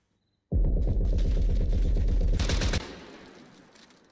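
A sudden loud burst of rapid automatic gunfire blind-fired in Rainbow Six Siege lasts about two seconds, then cuts off into a fading reverberant tail with a faint hum beneath.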